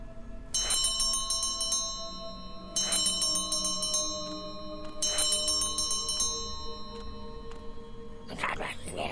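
Three loud, ringing bell strikes at regular intervals in a video game, each with a bright metallic attack and a long decaying shimmer, followed by a brief noisy burst at the end.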